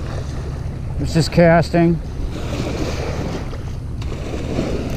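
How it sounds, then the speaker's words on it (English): Small waves lap against a lake shore during a fishing outing, a steady washing rumble under gusty wind, with someone speaking briefly over it early on. "I was waiting for these waves to stop."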